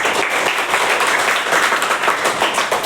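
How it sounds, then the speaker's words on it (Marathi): Loud applause from students, continuous, thick clapping from many hands, close and even in volume for the whole stretch, with no talking over it. "जोरदार टाळ्या वाजवायचे आहे"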